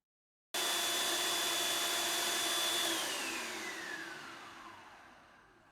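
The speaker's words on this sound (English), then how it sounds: "Okay, so we've blended everything up." A blender whizzes shiitake mushroom pate, starting abruptly into a loud, steady high whirring drone that holds for a few seconds, then gradually winds down and fades as the motor slows, with no voices.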